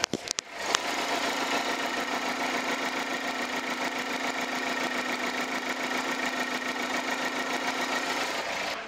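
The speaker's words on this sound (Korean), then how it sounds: "이제 엔진 소리를 들려드릴 건데 엔진 소리도 정말 좋습니다" A gas-powered Chevrolet Orlando engine idles steadily after a couple of clicks, a quiet even rumble with a faint rhythmic pulsing, close by and without talk.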